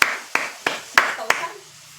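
Applause from an audience at a political speech on housing: five sharp, loud bursts of clapping in an uneven rhythm, each fading quickly, the last dying away into quiet.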